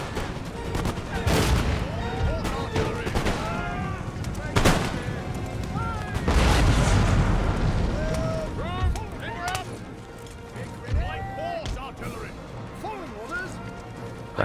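Musket volleys and artillery fire from an Empire: Total War battle: loud, repeated gunshot cracks and booming blasts with crashing impacts and battle noise, heavy bursts around the middle, while a voice talks over them.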